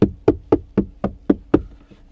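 Seven evenly spaced dull knocks land on the soft plastic door panel of an Audi A4 B8 2.0 quattro, each short and close with a brief hollow decay.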